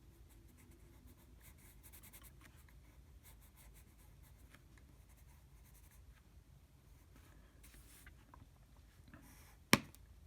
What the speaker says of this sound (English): And we're just drawing a face here.